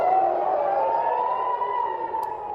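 Air raid warning sirens in Israel sound for incoming missiles, a steady, loud wailing tone that slowly rises and holds, heard continuously over a faint background hum with no talking.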